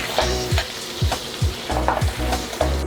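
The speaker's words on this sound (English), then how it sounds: "Now we're gonna finish the lobster. So add some butter. And add our lobster." Lobster sizzles in melted butter in a pan, a steady frying crackle broken by repeated rhythmic scraping strokes as it is stirred, close and clear with no talking.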